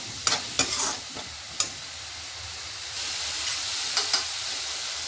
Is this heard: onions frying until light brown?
yes